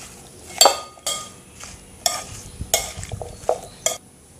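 Raw mango pieces tossed with salt and vinegar in a glass bowl make a series of close, sharp clinks and wet mixing strokes, about six distinct knocks spaced irregularly against a quiet background.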